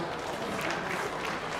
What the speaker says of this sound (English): please give God a round of applause